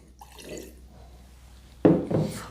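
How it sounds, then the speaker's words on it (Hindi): Water is poured into a glass of Bagpiper whisky in a short, close splash near the end, after a quiet stretch with faint liquid movement. "जानबूझ के पानी मैंने ज़रा ज़्यादा मिलाया है"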